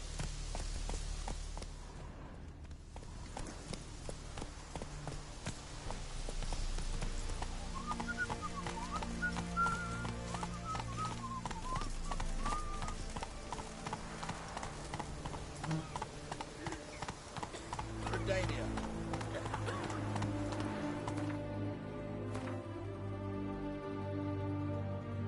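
In The Witcher 3, the horse Roach clip-clops steadily along under game music, hooves rhythmic and fairly close while whistled melodies and bird calls play in the background.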